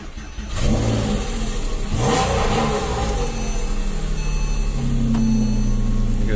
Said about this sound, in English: Let's start the car and listen to that exhaust.